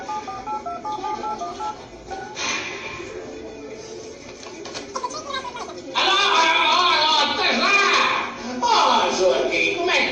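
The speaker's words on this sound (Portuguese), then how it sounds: "É melhor ligar pro Joaquim, vou ligar pro Joaquim" A telephone number is dialed on a studio phone during a Portuguese-language radio program, a sequence of short stepped tones near the start followed by louder ringing and line sounds, with talk around it.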